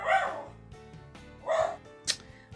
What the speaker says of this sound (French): ça se peut entendre mon chien se plaindre. Derrière, il jappe.